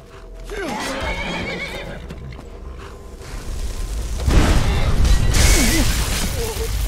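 A horse in the video game Skyrim whinnies twice, with clip-clop hooves and loud background rumble and game sounds swelling toward the end.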